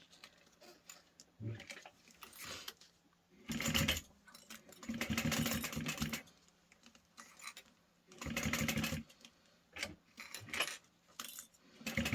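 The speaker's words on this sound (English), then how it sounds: "you're going to stitch around to hold it down." A sewing machine stitches down folded backpack webbing in short bursts, each run lasting a second or two, separated by quiet pauses and small handling clicks, heard close and fairly soft.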